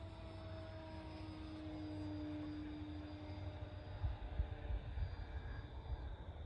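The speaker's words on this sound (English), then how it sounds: "I can hear the wheels like spinning in the air as I'm flying" An Eflite Slow Ultra Stick RC plane flying over a hilltop field, a steady motor drone with a faint whine of spinning wheels, fairly distant and continuous, swelling slightly toward the end.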